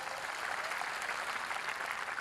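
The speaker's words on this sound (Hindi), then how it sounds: "तालियां आप लोगों की थोड़ी सी कमजोर है, जरा एक बार जोरदार बजा दीजिए।" Audience applause at a Hindi poetry event, a dense, even wash of clapping that sounds faint and somewhat distant, continuing steadily without talk.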